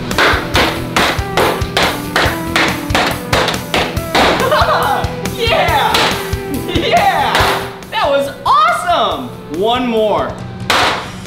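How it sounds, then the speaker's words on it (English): A hammer smashes a big bar of chocolate, a run of sharp, evenly spaced taps and thuds from close by, while people talk and react over the later blows. "This hammer is only used to smash this big bar of chocolate."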